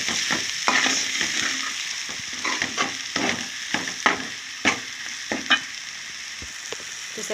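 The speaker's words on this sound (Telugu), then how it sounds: "ఉల్లిపాయలన్నీ బాగా ఫ్రై అయిపోతాయి మసాలాకి కూడా ఉప్పు కారం బాగా పట్టాలి" Onion masala with chili powder and salt fries in a pan for a chicken curry, a constant close sizzle broken by frequent spatula scrapes and stirring knocks.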